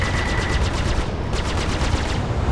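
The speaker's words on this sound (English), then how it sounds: "I'm shooting in the wrong bit." Gunfire in the Star Citizen space game comes as loud, rapid automatic fire, a continuous rattle of shots running unbroken for the whole stretch.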